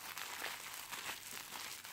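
A mylar emergency survival blanket crinkles steadily and closely, a dense bright rustle sustained for about two seconds at low volume with no voices.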